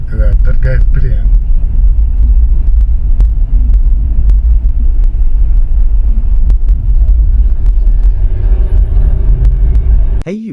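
A car rolls through the city streets of Kensington, Philadelphia, its loud low engine and road rumble constant throughout, with a brief voice near the start and a sharp cut at the end.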